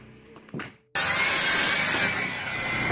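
DeWalt miter saw cutting wood: after a brief spin-up, the blade bites in with a loud, close, continuous rasping cut that holds steady for about two seconds, with no talking.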